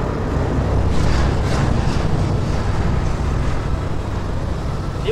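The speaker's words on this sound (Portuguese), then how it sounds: "Olha o motor da moto." A large 1800cc motorcycle engine runs steadily with a deep, rumbling low-end drone, loud and constant throughout, with some wind buffeting over the microphone.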